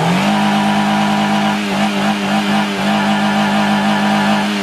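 A Toyota 4E-FE engine idles and revs steadily right after a water pump replacement, a loud, continuous close-up hum with strong harmonics and slight rises in pitch, with no talking.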